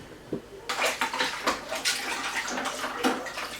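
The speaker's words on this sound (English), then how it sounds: "Right, now we've got to rinse everything." Water splashes and runs over cider-making equipment being rinsed, a steady broadband wash broken by sharper clatters and splashes, close and fairly loud with no talking.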